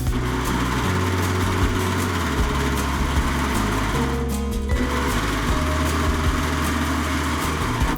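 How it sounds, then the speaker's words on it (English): A serger overlocker runs steadily at high speed, finishing the raw fabric edges of a dress. The loud, continuous mechanical whirring holds throughout with a brief dip midway and no talking. "I'm gonna finish with the serger."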